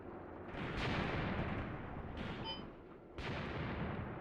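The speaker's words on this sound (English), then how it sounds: "Finally, we have the artillery." Artillery guns in the Mius Front video game fire three heavy booms, each a sudden blast trailing off into a long rumbling decay, spaced a second or so apart.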